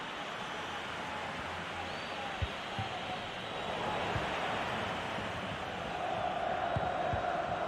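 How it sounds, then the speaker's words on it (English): A tense stadium crowd at a football match in a video game keeps up a steady, dense roar that swells slightly partway through, continuous and broad with a few faint thuds underneath. "The crowd certainly think so. Just listen to them."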